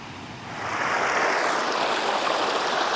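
Clear river water rushing steadily around someone standing mid-river at Turibari in North Bengal, a broad, constant close-up wash that swells slightly after the first half-second and then holds loud and unbroken.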